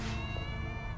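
A cat meows inside the video game Tales of the Neon Sea, one drawn-out, fairly loud meow with a bright tonal cry over a low background hum, no talking.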